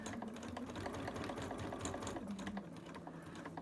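A sewing machine stitches a seam on an overlocker cover, its motor purring steadily with a fast, even needle patter that shifts slightly in pitch, heard close and without talk.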